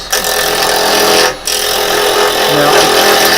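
A wood lathe spins while a carbide chisel makes turning cuts, a loud steady whirring hiss with scraping texture that drops out briefly for a moment before resuming at full strength.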